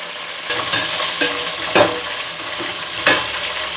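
Onions and curry leaves frying in oil with fenugreek and cumin for a korameenu (murrel fish) curry, a steady close sizzle broken by a few louder stirring scrapes, with no talk.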